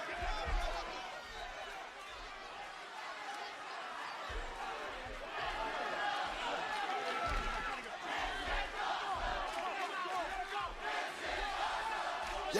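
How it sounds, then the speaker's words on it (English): A WWE NXT wrestling crowd roars and shouts through a brawl, a loud, continuous wall of voices that swells and surges, with chatter mixed in. "at least the crowd likes it"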